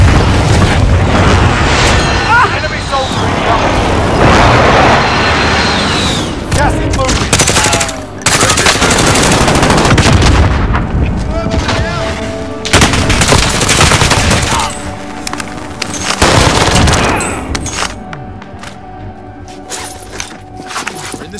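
Airstrike explosions and heavy gunfire in the Call of Duty: Modern Warfare game, with booming blasts and sustained rapid automatic fire filling the whole stretch, intense and loud, with brief faint radio-style voices under the chaos.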